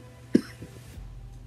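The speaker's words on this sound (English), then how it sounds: "That was almost down the wrong throat, almost down the wrong pipe cough." A single sharp cough from something going down the wrong pipe while eating chicken noodle soup, close and brief, followed by a couple of faint throat sounds against a low room hum.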